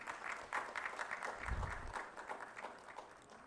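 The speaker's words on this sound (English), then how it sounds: "We welcome you, sir, with a big round of applause." Audience applause at a health technology summit welcoming a guest, a fairly faint, uneven patter of clapping with a brief low thump near the middle.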